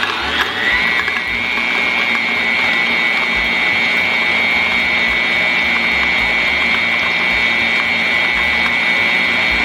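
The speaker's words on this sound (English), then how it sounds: "we're going to turn the mixer on and let it start slowly" A Cuisinart stand mixer fitted with a whisk attachment runs steadily, its motor giving a loud, constant whine with a rising start-up pitch that settles into an even mechanical hum throughout.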